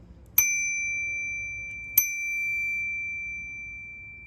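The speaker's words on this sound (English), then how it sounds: "I'm able to use the bell." A handlebar bell on an e-bike rings twice, two bright metallic dings about a second and a half apart, each leaving a clear, lingering tone in otherwise quiet surroundings.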